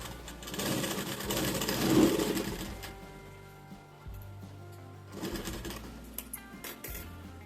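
A sewing machine stitches the seam of a princess-cut blouse in a steady mechanical whir, rising in a longer run, pausing briefly, then resuming with a second burst, close and without talk.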